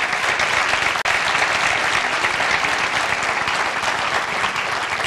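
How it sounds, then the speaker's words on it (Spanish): A church congregation claps together in worship, filling the room with thick, loud, continuous applause that stays level throughout, with no voices standing out above the hands. "dale un aplauso al Señor"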